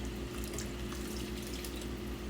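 Cooking liquid from an oxtail pot is poured off into gravy in a steady, unbroken splashing stream, close and constant with no talk.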